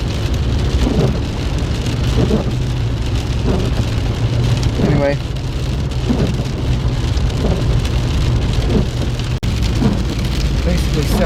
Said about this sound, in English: I shouldn't complain too much about the rain